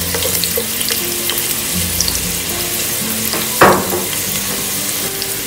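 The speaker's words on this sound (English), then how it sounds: "I'll add my onions." Onions dropped into hot oil in a pan for chicken fried rice, giving a loud, steady close sizzle with one sharper burst partway through.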